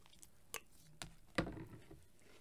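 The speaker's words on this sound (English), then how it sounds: "Let me take a bite of this here." Crunchy bites of breakfast cereal, a few sharp crisp crunches spaced out over a couple of seconds, close and moderately loud, with no talking.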